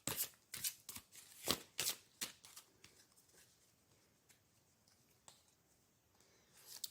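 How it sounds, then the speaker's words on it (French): Oracle cards are shuffled and drawn from a deck in a burst of crisp flicks and slaps over the first two seconds, then a few faint scattered taps, close and quiet, with no talking. "on va prendre une carte ou plusieurs cartes des symboles de vie"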